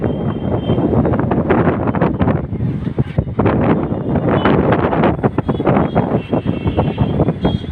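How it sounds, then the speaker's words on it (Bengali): Gusty wind pounds an open rooftop before a storm, a loud, rough rumble with repeated buffeting thumps against the microphone throughout. "এত পরিমাণে বাতাস, মনে হয় যে হাত থেকে মোবাইল পড়ে যাবে, এত পরিমাণে বাতাস"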